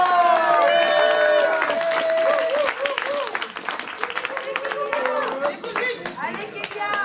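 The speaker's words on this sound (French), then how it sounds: "Elle est timide, elle réclame des applaudissements." Steady clapping and some cheering from a slam poetry audience in Nogent-le-Rotrou, continuous and fairly close, with voices calling out and talking over the applause throughout.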